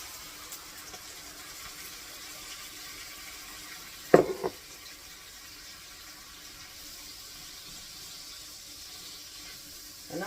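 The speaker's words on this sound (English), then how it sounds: "And then some water to it." Water is poured from a tap into a pan of homemade taco seasoning, with a quiet steady flow and a brief louder splash partway through.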